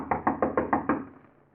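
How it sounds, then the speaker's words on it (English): Six firm, evenly spaced knocks on a wooden door in a 1948 radio drama, close and clear, followed by a short fading resonance and no voices. "there's a knock at his door"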